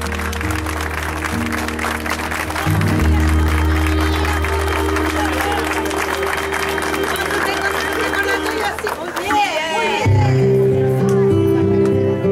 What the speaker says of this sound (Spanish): yo les quiero pedir un gran y último gran aplauso a la comisión fundadora de la